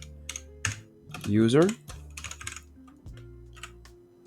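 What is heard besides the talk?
typing on a computer keyboard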